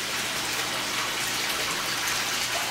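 Filter outflow pouring steadily into a backyard turtle pond, a continuous broadband splashing gush that holds even and fairly loud throughout, with no voices over it.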